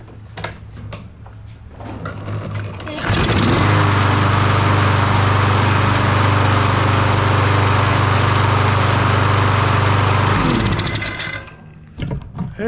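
A Troy-Bilt push mower is pull-started with the choke on. After a few rattling tugs its small engine catches and roars loudly and steadily for about seven seconds, then cuts off.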